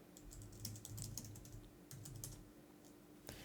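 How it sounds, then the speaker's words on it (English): Computer keyboard keys tapped while typing a command, quick clusters of soft clicks with short pauses and a final louder keystroke, close and quiet over a low hum. "So let's type this command."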